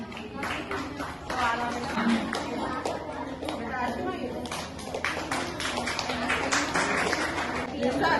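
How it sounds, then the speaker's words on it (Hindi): Clapping from a crowd honouring schoolgirls at a school award ceremony, steady dense applause with chatter and children's voices mixed in throughout. "तुम्हारा सबके लिए तालियां।"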